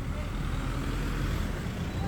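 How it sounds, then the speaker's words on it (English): A hospital shuttle van rolls past on a busy dead-end street in Bangkok, a steady low engine and road rumble blending into dense surrounding traffic noise, close and continuous. "There are shuttle vans. I believe this is one."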